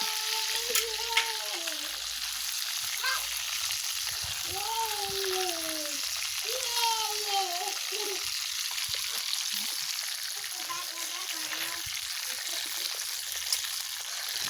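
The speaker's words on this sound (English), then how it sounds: "this same oil that I use for frying my fish" Steady crackling sizzle of fish frying in hot oil at a northern Ghana street food stall, with a voice talking intermittently over it.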